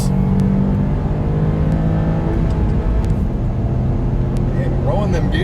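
Dodge Challenger Scat Pack or Subaru WRX STI accelerating hard through the gears in a roll race, a loud sustained engine roar with rising pitch heard from inside the car, with people talking over it.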